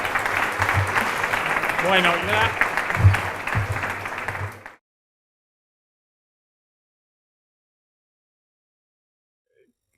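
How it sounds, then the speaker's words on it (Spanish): A conference plenary audience applauds in a broad, even burst under a speaker's voice, and the sound cuts off abruptly into silence about halfway through. "creo que se merecen un aplauso."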